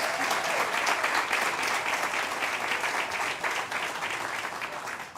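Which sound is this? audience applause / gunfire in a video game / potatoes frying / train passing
audience applause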